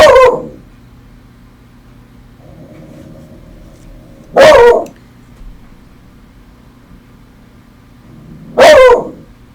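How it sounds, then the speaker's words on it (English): A dog barks three times, single loud close barks spaced about four seconds apart, with a low steady indoor hum between them and no talk. "Choppy, don't bark."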